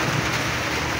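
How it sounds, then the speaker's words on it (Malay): Rain falling at midnight on a fishing raft, a steady broadband hiss with no talk, close and continuous throughout. "Hujan lah pula."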